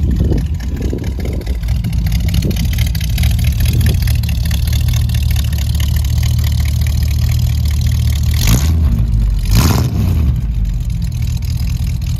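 A 1965 Buick Riviera engine runs close and loud at a steady idle, with a couple of brief revs blipping up near the end of the clip.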